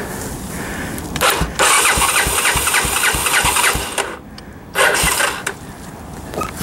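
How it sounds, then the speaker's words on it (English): A Honda 250SX motorcycle engine being cold started, with loud cranking bursts, a rough sputtering catch and uneven running, then a pause and another loud burst of revving. "let's do the ultimate cold start"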